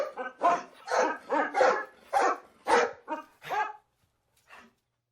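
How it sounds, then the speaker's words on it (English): A pair of wild-looking dogs barking, a quick series of about ten loud, close barks in an irregular rhythm, ending with a short pause and one softer bark. "At that moment, a pair of wild-looking dogs ran up to them."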